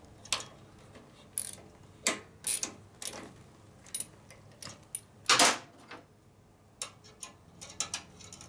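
A wrench ratchets a bolt tight on the top end of a 1958 Harley-Davidson panhead 74ci engine, a series of sharp metallic clicks in irregular bursts, close and clear with no talking.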